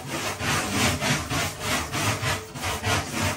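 IKEA Pepprig cleaning tool attachment scrubbed back and forth on a surface, giving a rhythmic rasping rub of about two strokes per second, close up with no talking.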